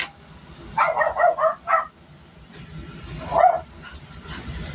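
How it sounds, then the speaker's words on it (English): A pet dog gives a quick burst of several sharp yappy barks close by, then one more bark after a pause, with quiet room noise between. "There's Ruby. She had a bark."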